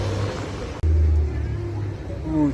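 A yellow Lamborghini Huracan with gold rims and yellow brake calipers drives past at a street event, its engine a loud, steady roar with a brief cut partway through and a rising note near the end.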